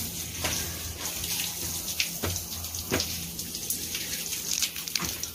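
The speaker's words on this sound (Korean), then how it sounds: "엄마가 물 쏴줘야 돼요, 여기 안에다가." Water sprays into a container with a soft, continuous rushing hiss, broken by a few small splashy bursts, fairly quiet and close, with no voices.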